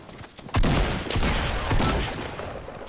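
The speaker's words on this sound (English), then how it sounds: "so you shoot a pump, and then you have to re-pump the other pump" Pump shotgun blasts fired in quick succession in Fortnite: three loud, booming shots roughly half a second apart, each trailing into a sustained rumble, with no voices.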